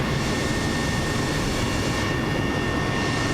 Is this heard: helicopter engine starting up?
yes